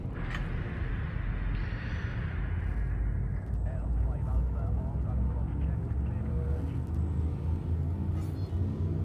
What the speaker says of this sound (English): Frameshift drive charging.